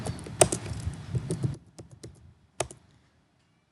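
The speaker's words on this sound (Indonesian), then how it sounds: "Ini kita ketik Cantika." Keys clatter on a computer keyboard as a hostname is typed at a Debian router login, first in a quick dense burst, then in a few sparse separate taps that trail off into quiet.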